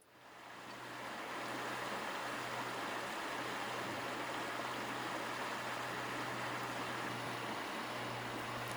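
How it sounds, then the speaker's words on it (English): A river flows steadily through an Oregon forest, a constant broadband rush of water heard close and alone after a brief fade-in. "hearing the steady rhythm of the river"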